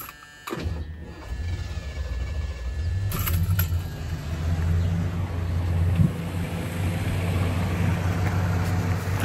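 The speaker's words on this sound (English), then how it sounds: "So let's start the engine for a little sound comparison." A 1976 Lincoln Continental Mark IV, Jade White with the Luxury Group option, cranks and starts, then settles into a steady, loud, low idle that carries on with no one talking.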